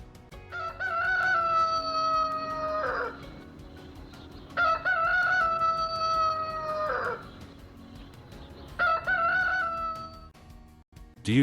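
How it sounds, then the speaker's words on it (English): A rooster crows three times in long, loud, drawn-out calls separated by short gaps, with faint clucking and background noise between crows. "It's a chicken."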